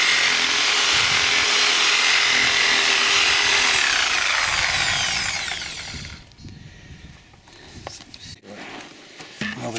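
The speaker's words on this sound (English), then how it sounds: "So we've come upon a root, and so my dad got out the Sawzall" A Sawzall reciprocating saw cuts through a tree root in dirt outdoors, buzzing loudly and steadily for several seconds before stopping, followed by scattered handling noises and people talking.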